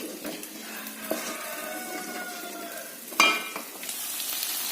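Chicken frying in a pan of boiling water with chili powder, a steady soft sizzle and bubbling throughout, with a sharp metallic clink near the middle.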